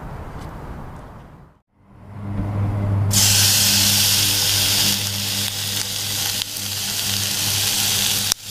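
Butter and bacon grease sizzle in a pan for a flavorful roux aboard a boat, a loud, steady frying hiss that briefly dips and then swells into a bright, intense sizzle with a low hum beneath.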